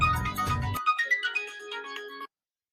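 A mobile phone ringtone plays an incoming-call melody, a bright repeating tune of clear tonal notes that starts under a brief burst of other noise, then rings alone before cutting off abruptly into silence.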